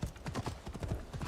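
Horse hooves clip-clop steadily on a dirt road in the video game Assassin's Creed Shadows, an even close rhythm of unshod hoofbeats.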